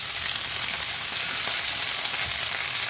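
Vegetables frying over a high gas flame for a chicken stew, giving a steady, dense sizzle that stays loud and close throughout, with no voices.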